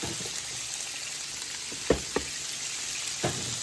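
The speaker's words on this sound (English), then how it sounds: "We're going to give it a quick saute to kind of hold in everything." Cabbage, onion and garlic sizzle steadily in hot canola oil and butter, a constant close frying hiss with a few soft knocks of a utensil against the pan.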